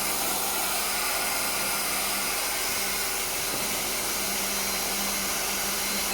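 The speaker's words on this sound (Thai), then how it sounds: "ทางจัดการฉีดล้างความสะอาดแผงแอร์ด้านหน้าให้ค่ะ" A steady, loud spray of pressurized water hisses continuously and unchanging from start to finish, washing the AC condenser of a 2015 Nissan X-Trail, with no voices.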